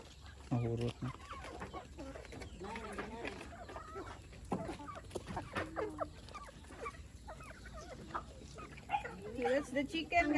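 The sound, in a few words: chickens clucking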